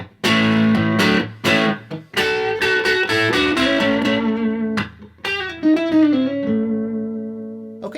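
Telecaster electric guitar runs through a compressor and overdrive pedal into an amp, playing bright, punchy chords and single notes in short phrases with sustained ringing tails, clean-edged with mild grit, no talking.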